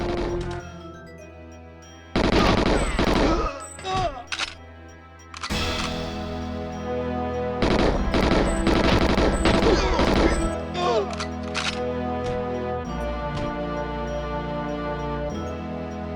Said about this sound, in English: Who the hell else just shot at me?